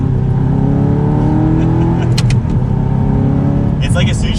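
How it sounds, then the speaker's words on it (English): Manual Audi R8 fitted with a Pedal Commander pulling hard in third after a downshift, a loud, steady engine roar building under the pull, with someone talking over it. "It's like as soon as you're back on the gas, it's instantly like it's going."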